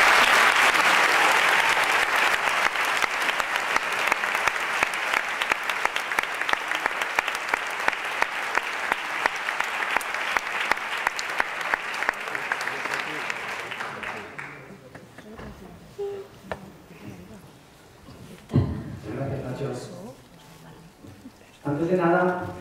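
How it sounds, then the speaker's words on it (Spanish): A hall audience at a Holy Week proclamation in León gives loud, sustained applause to welcome the speaker. It rolls steadily for about fourteen seconds, then fades into scattered claps, room noise and a few voices. "Recibámosle con el aplauso que se merece."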